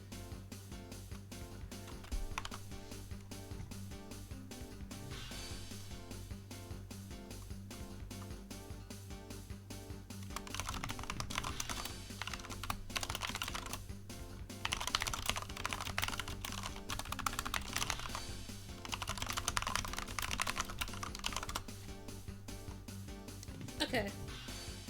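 Keys clatter steadily on a computer keyboard in rapid, close typing that runs throughout, sometimes in denser bursts, with a steady hum and other sounds underneath.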